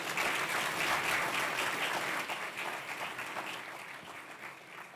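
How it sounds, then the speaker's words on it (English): A conference audience at a stock exchange investment event breaks into sustained applause, full and dense at first and then gradually thinning and fading over five seconds. "round of applause"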